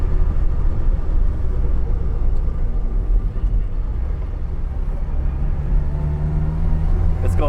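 A turbocharged MKI Mini Cooper's engine rumbles steadily and loudly from inside the car as it drives, a continuous low drone with road noise throughout.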